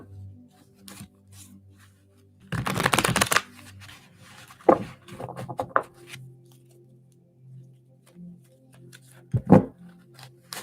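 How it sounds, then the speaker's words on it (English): Tarot cards are shuffled and pulled for a reading, with a dense burst of riffling followed by scattered shorter card flicks and taps, close and fairly quiet, no talking. "Mike, so I can pull these cards for you"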